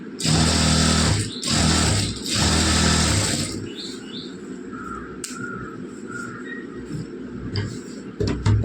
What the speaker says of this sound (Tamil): ஒரு தையல் போட்டுக்கலாம்.